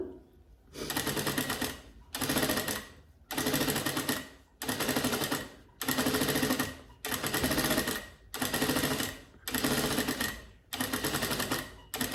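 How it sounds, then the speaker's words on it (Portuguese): A sewing machine stitches a drawstring channel around a fabric jewelry pouch, running in about nine even bursts of loud, close mechanical rattling separated by short pauses. "A gente vai costurar aqui para fazer a canaleta, onde vai passar o nosso cordão."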